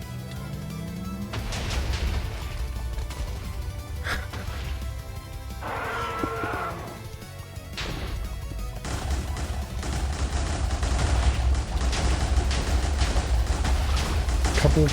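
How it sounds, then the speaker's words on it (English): Blasts going off in the Minecraft modpack Stoneblock 4, with several loud bursts and crashing impacts heard over continuous game noise while someone talks. "Couple explosions to the face."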